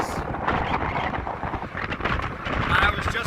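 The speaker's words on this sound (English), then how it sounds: "my goodness, it's windy here" Strong wind gusting outdoors near Madrid's Barajas airport, rumbling and buffeting the microphone in uneven surges, with a person talking over it.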